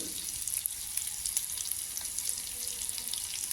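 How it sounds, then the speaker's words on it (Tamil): Eggs fry in masala for a Tamil egg curry over a low flame, giving a steady, even close-up sizzle with faint crackles throughout and no talk. "மெல்லிய தீயில இதை பொரித்து எடுத்துக்கொள்ளணும்"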